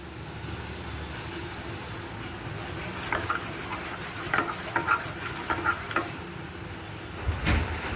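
Gram flour roasting in a pan for Ganpati prasad laddoos, stirred with a spoon that scrapes in a loose run of soft strokes over a steady low hiss, with a few louder knocks toward the end.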